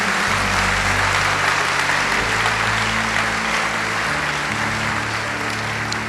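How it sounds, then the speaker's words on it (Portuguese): A Catholic congregation applauds during a sermon, a steady, full wash of clapping heard fairly close, with sustained low musical tones running beneath it throughout. "pode aplaudir, pode aplaudir"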